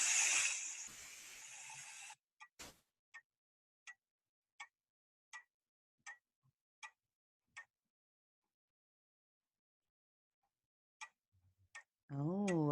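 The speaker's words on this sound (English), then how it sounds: "Oh, a clock. That's not something we hear very often these days." A clock ticks steadily and softly, one tick roughly every three-quarters of a second, alone in a quiet room after a brief hiss at the start.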